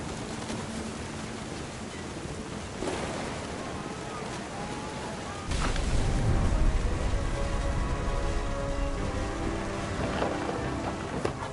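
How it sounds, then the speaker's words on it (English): Rain and thunder from a thunderstorm in the video game What Remains of Edith Finch: steady rain hiss throughout, with a deep rumble of thunder swelling at mid-clip and lingering, fairly quiet and without speech. "The thunder sounded much too close and full of angry power."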